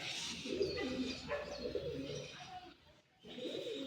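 Pakistani pigeons cooing close by in a loft, a soft burbling series of throaty coos with a faint chirp, continuous apart from a short dip near the end.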